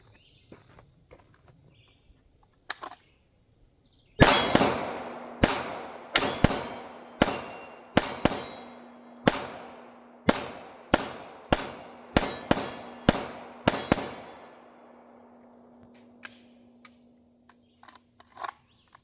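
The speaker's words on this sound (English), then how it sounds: "Let's do some shooting." A Glock 47 pistol fires at steel targets outdoors: a slow series of sharp shots, each followed by a ringing metallic clang, about fifteen in all, loud and close, with a lingering steel tone and no talking.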